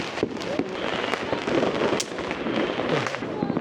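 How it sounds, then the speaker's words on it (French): Chinese New Year fireworks and firecrackers in Wenzhou, China, go off in a dense, continuous volley of sharp cracks and pops, loud and close, with overlapping bursts and no pauses. "incessante de feux d'artifice là depuis déjà 1 heure au moins"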